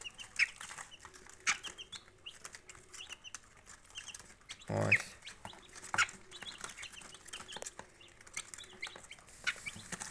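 Quiet clucking and soft calls from two brooding turkey hens nearby, scattered over a calm background with a brief rustle of movement midway.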